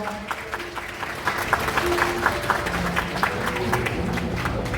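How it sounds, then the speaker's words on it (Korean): Wedding guests in a wedding hall clapping, a scattered, rhythmic patter of applause that builds and holds for about five seconds, with a faint murmur under it. "여러분 박수 부탁드립니다."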